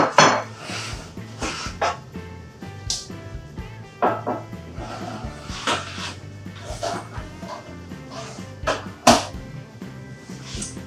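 A metal cookie sheet clatters and clanks as it is handled in a home kitchen while biscuits are made, with sharp scattered metallic knocks over a faint background and no talk.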